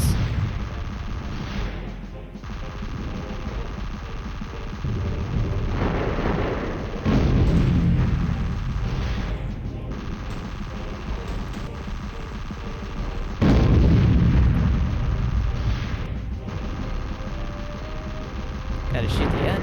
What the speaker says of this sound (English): So many explosions! Everything is better with explosions!